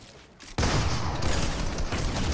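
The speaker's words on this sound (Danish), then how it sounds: "jeg hørte også det sidste skud gå af" Gunfire in the video game Fortnite during an arena solo match: a quiet lead-in, then a sudden loud, dense burst of shots that keeps rattling close and sustained to the end.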